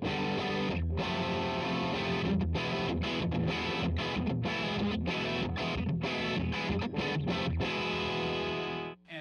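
An electric guitar plays through a Fulltone Mas Malo distortion pedal with the heat knob fully up, in neck position, giving a thick, saturated, sustained tone. It is loud and continuous, with a few brief breaks, and cuts off at the end.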